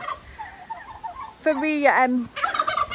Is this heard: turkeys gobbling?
yes